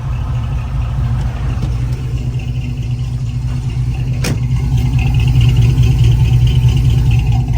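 A 1957 Chevy engine drones steadily during a test drive, a loud, low constant rumble inside the moving car with no talking.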